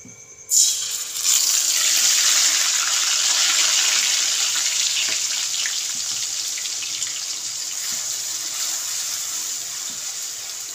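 Onion paste fries in hot oil with cinnamon in a pan, starting with a sudden hiss, then settling into a loud, steady sizzle that fades only slightly over several seconds.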